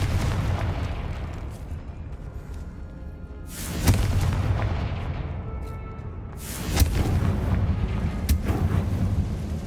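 Two Confringo blast-spell explosions in the Hogwarts Legacy video game, each a sharp crack swelling into a rumbling boom, spaced a few seconds apart over a steady low game ambience.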